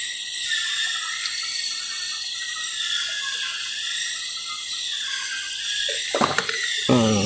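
Screws being driven back onto the radiator fan of a Nissan C22 Vanette make a steady, close ratcheting whir. A few sharper clicks and clunks come near the end.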